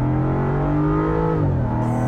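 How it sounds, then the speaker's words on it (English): A 2023 Land Rover Defender V8 Carpathian Edition gives off a deep, steady exhaust drone that dips slightly in pitch partway through, heard alone and fairly close for about two seconds. "when you start playing with the paddles, it does have a little bit of a burble"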